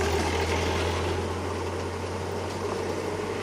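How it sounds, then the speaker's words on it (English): A car not built for the terrain approaches from behind at high speed along a rough dirt track in a safari reserve, its engine a steady, loud, rumbling drone with constant road noise and no voices. "That is the sound of a car not designed to be in this area."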